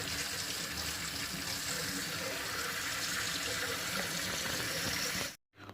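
Water runs steadily from a household tap, cold because a faulty ECA combi boiler gives no hot water; a continuous close splashing rush that stops abruptly near the end.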